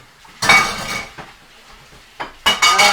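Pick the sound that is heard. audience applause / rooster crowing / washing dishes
washing dishes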